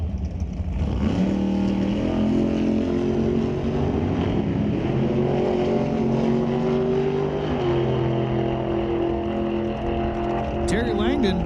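A drag race car launches hard off the starting line at an NHRA Northwest National Open Series race at Mission Raceway Park, its engine roaring steadily loud for several seconds while an announcer talks over it.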